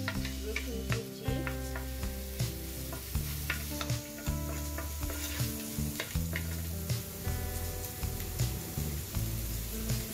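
Chopped garlic sizzles in leftover cooking oil with a dense, continuous crackle and scattered pops, close by under steady background music.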